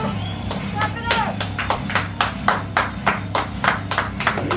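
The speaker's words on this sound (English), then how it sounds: "Clap it up." Rhythmic group clapping at a steady tempo during a kids' workout session, about a dozen crisp claps over a low repeating music bed with some background voices.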